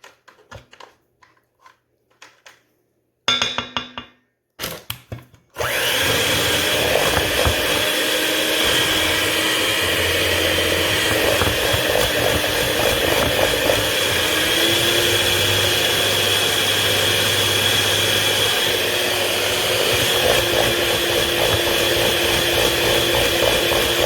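An electric mixer runs on high through rice cake batter for a brown sugar rice cake, first in a few short start-stop bursts, then as a steady, loud whirring drone with no talking.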